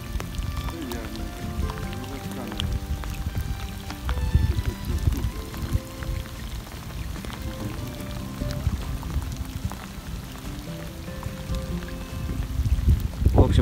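Heavy spring rain pours down steadily on a fishing spot, a dense hiss of drops pattering on water and nearby surfaces, with a voice speaking over it at times.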